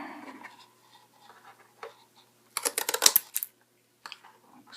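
Scissors snipping through a cardboard piece for a homemade Jurassic Park T. rex model, a burst of several quick close cuts after soft handling rustles and paper scraping, with a few more light scrapes afterward.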